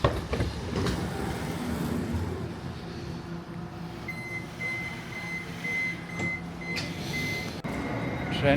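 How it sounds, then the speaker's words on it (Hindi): A train pulls into a station in Switzerland, a steady low rumble of rail cars with a faint high beeping tone partway through, heard without speech. "ट्रेन मेरी आ चुकी है।"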